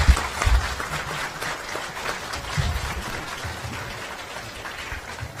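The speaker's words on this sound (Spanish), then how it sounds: "Aplauso para el hermano." Audience applause for a debater at a debate on obligatory tithing, a steady wash of many hands clapping that starts with a few louder claps and then holds at an even, moderate level throughout.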